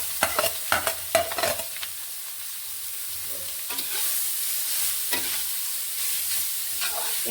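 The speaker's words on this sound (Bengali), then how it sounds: "গ্রেট করা গাজর এবার ঢেলে দিচ্ছি" Grated carrots hit hot ghee for carrot halwa, with a burst of clatter and scraping as they go in, then a steady sizzle with occasional stirring knocks.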